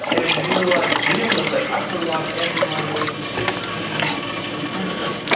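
Water poured steadily for making espresso, a continuous bright liquid rush lasting several seconds at close range, with faint background noise.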